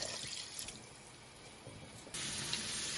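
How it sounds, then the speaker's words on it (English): Broth poured into a pot on a home stovetop, a steady liquid splashing and trickling that swells louder near the end, close up with no talk. "now I'm going to add a cup of broth"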